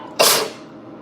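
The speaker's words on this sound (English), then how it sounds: "1 second, I gotta sneeze." A single loud, close sneeze erupts while peppers are being cut, a short breathy burst that fades quickly into quiet, with no talking.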